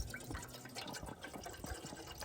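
Water filling a small backpacking kettle at a winter truck campsite in Jubilee College State Park, a short close trickle and splash with uneven gurgling drips over about two seconds.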